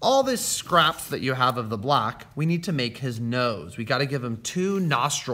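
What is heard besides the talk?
No everyday noises stand out.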